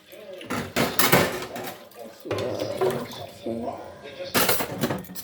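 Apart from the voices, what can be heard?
washing plates and spoons in kitchen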